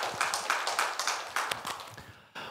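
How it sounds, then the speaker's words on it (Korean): A church congregation claps in praise during a Sunday service, a faint, short burst of scattered hand claps that fades out after a couple of seconds. "하나님께 영광의 박수 올려드리겠습니다."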